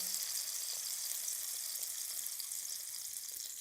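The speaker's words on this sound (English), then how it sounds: "You should hear a sizzle." A steady, soft hiss of a sea bream fillet frying in a pan fills the clip, a continuous sizzle with faint crackles and no voices.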